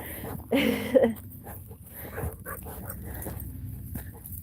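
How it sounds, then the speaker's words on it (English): A dog gives a short bark or whimpering yelp outdoors in a garden, one brief close burst near the start followed by quieter panting-like sounds and soft background noise. "It sounds like Aura used to bark like that."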